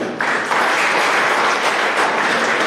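An audience at an award ceremony for children claps loudly and continuously, a dense, steady wash of applause with no voices on top.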